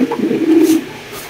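A single close, loud pigeon coo rolls out in a low throaty burst, then fades into quieter background.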